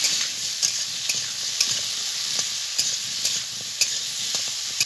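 Potatoes with salt and turmeric fry in hot oil, a steady crackling sizzle broken by regular scraping taps of a spoon stirring the pan, close and with no talking.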